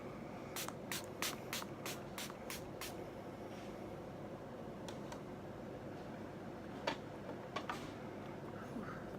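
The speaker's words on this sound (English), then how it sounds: "set my makeup with my e.l.f. makeup mist" Eight quick hissing pumps of e.l.f. makeup setting mist spray out in a rapid, even series, followed after a pause by a few more scattered sprays over a faint steady background hiss.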